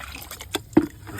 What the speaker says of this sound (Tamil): நம்ம காய்கறி வேஸ்ட்லாம் போட்டு நல்லா தண்ணியை புளிக்க வச்ச தண்ணியை எடுத்து ஊற்ற போகிறாங்க